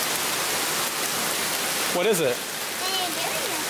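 Heavy wind-driven rain falling sideways, a steady broadband hiss throughout, with a person speaking briefly over it and other voices faintly in the background.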